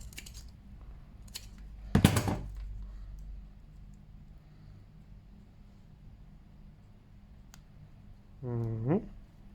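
Scissors snip during a basic zipper repair, with one sharp close cut and a few quieter clicks, then a short rising zip-like rasp near the end, with no voices.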